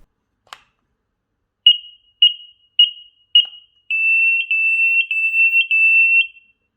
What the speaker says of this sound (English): To test and make sure all is working well, hold on to the button for a few seconds.